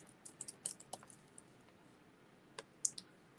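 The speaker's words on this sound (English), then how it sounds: "I'm typing." Scattered keyboard clicks from computer typing, a few quick taps early then sparse isolated strokes with pauses between, quiet and close, no talking.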